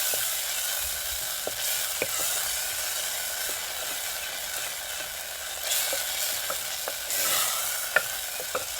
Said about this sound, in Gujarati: પછી આપણે કારેલા મૂકવાના છે અંદર